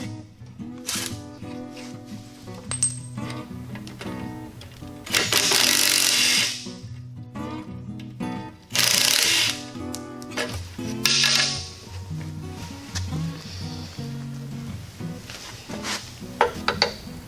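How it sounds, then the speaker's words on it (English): An impact wrench with a 14mm socket removes the bolts from a backhoe bucket in several loud, rattling bursts a few seconds apart, set against steady tonal background music. "I removed the bolts with a 14mm wrench and socket for my impact wrench."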